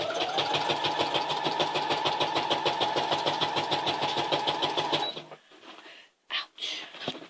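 A sewing machine runs in a steady, rapid mechanical whir for about five seconds, then stops, followed by a few short rustles and bumps nearby.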